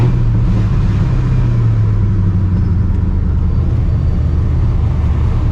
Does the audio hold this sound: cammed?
yes